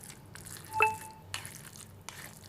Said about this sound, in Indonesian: Terus kita aduk dan terus kita aduk.